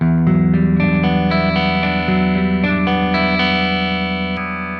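An electric guitar with a clean, effects-laden tone plays a riff, sustained ringing notes over a steady low drone, loud and close, with no talking.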